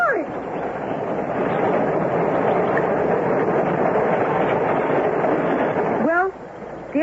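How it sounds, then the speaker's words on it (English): A train passes on a line to London in a radio adventure drama, heard as a loud, steady broadband rumble that holds for about six seconds before cutting off. A whistle-like sweep rises at the start and again at the end. "Listen! A train is coming. There it is. On its way to London."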